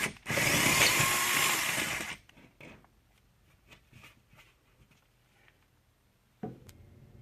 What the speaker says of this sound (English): find a about a 1/4 inch drill bit to make that hole bigger in the sheetrock